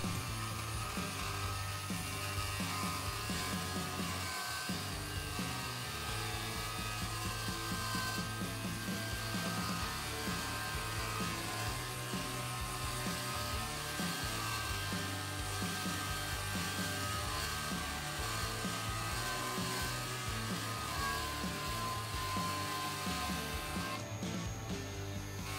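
A micro lathe cuts a step into a steel workpiece, giving a steady motor hum with rhythmic scraping and chattering from the cutting tool, close and continuous without any speech.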